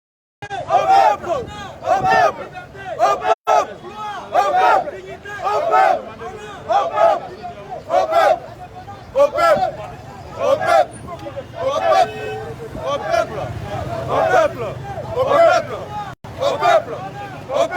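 A large outdoor crowd of young people at an ECOWAS delegation's arrival, chanting and shouting in loud, rhythmic bursts roughly every second, with a constant murmur between the chants.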